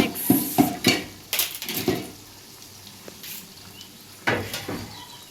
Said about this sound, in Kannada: ಟೊಮೊಟೊ ಹಾಕ್ಕೊಂಡು ಮಿಕ್ಸ್ ಮಾಡ್ತಿದ್ದಾರೆ